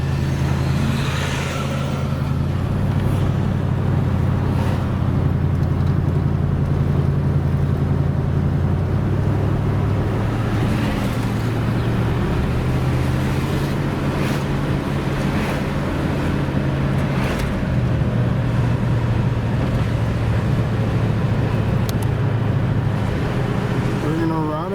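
A steady low engine rumble from inside a moving 1977 Buick Electra Limited, with road and wind noise running throughout at a constant level.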